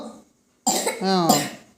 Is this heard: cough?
yes